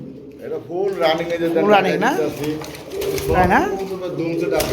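Pigeons in a Bangladeshi pigeon market cooing loudly and repeatedly close by, with wing flaps and fluttering, and people talking over them.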